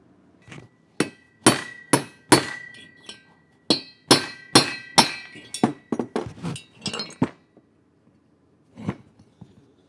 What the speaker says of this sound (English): The valve seat broke, but it came out, so success.